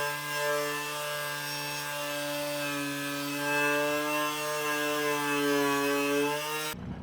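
A wire wheel on a battery-powered tool stripping paint from a truck body, a steady loud whirring grind with a sustained tonal whine that holds for several seconds before cutting off abruptly.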